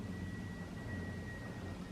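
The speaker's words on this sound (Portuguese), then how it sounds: "É tipo um avião, mas tem um apito junto, bem caótico." A low, rumbling engine drone like a distant airplane, joined by a thin, steady high whistle tone running through most of it.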